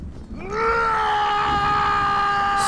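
A Viking warrior in the video game For Honor lets out a long, loud, sustained battle scream that rises sharply and then holds steady for over two seconds, close and alone.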